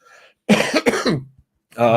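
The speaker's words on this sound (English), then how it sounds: "Usually I turn my head when I cough like that." A single harsh cough close to the microphone, a short throaty burst followed by a brief pause, then more vocal sound at the end.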